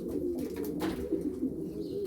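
Pigeons coo continuously nearby, a low rolling warble repeating with overlapping calls.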